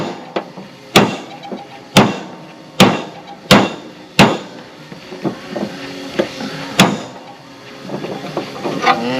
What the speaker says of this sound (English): you don't want to beat right on the end of the shaft, because you end up flaring it out,